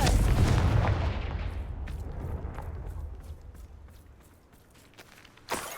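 A Confringo fire spell explodes with a loud, heavy boom in Hogwarts Legacy, then fades into a long rumbling decay while light footsteps tap in the background.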